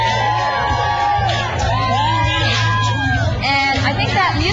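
Outdoor crowd on an early fall morning in Manhattan, a loud steady hubbub of many voices with whoops and shouts, music and background talk mixed in throughout.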